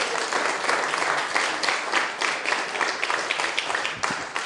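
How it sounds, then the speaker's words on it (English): A church congregation claps in praise, a full room of hands beating in a loose, lively rhythm with some sharper individual claps standing out, sustained throughout. "Give the Lord a hand clap of praise."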